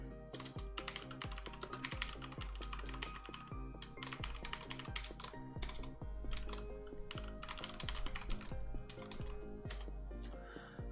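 Steady, fast clatter of typing code on a computer keyboard, dense clicky keystrokes in quick bursts throughout, close and clear over a faint electrical hum, with no speech.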